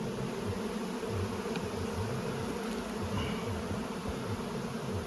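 Honey bees buzz continuously in an open beehive during an inspection, a dense, steady hum close by with no voices.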